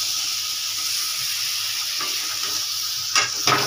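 Egg curry masala with eggs and potatoes sizzles in a pan, a soft steady frying hiss with faint stirring scrapes and a couple of louder clinks near the end.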